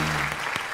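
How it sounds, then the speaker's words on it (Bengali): A brief, dense burst of audience clapping fills a TV comedy show studio, with a voice trailing off just as it starts. "সো একটা জোরে হাততালি।"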